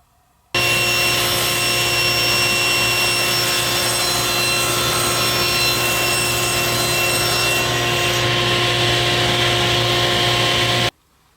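Table or circular saw ripping 1/2 inch plywood into 1.5 inch wide strips, a loud steady whine with a continuous harsh cutting roar for about ten seconds, starting and stopping abruptly.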